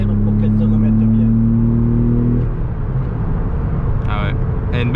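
Inside a Porsche 911 996, the engine holds a high, loud rev for a couple of seconds, then eases off into a rough cabin rumble while people talk.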